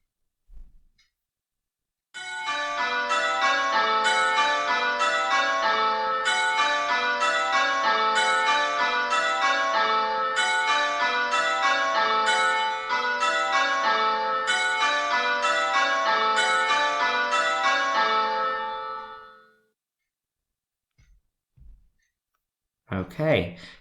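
Church bells peal in a fast, steady change-ringing pattern for about seventeen seconds, loud and clear, before fading. One bell in the set is failing. A few brief sounds follow near the end.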